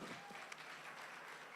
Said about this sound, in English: I'd like us to give them a round of applause